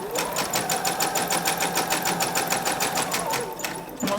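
Sewing machine stitching an elastic waistband while the fabric is stretched, a rapid even needle chatter at constant speed running close and steady for about four seconds before stopping with a small clunk.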